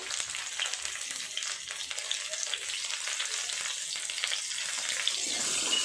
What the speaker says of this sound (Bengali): আলু আর পটল একসাথে ভেজে নেব।